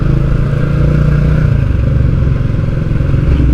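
Yamaha R15 motorcycle being ridden, with a steady, loud engine drone that runs continuously throughout, nearby and without any talking over it.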